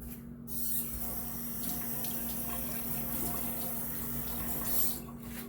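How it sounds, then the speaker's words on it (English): Water runs steadily from a kitchen tap into a sink while hands are rinsed after handling eggshell, a continuous close hiss with no speech. "wash hands"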